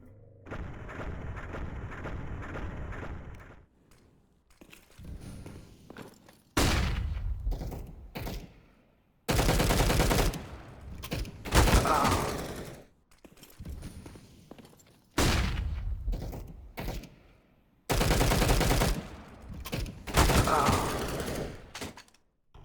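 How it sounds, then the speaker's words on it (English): Gunfire in a first-person shooter game as Shroud fires at a target through a box: loud, dense bursts of shots in several blocks, each separated by quieter stretches. "you're going to see him shoot at the target through the box"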